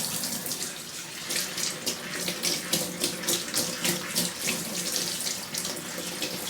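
Tap water runs steadily into a kitchen sink while small die-cast toy parts are rinsed, a close, continuous splashing hiss with gentle fluctuations and no talking.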